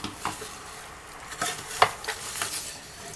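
Intermittent scraping and clinking of a utensil stirring seasoned chicken in a pan, a few distinct strokes over a soft sizzle, close by.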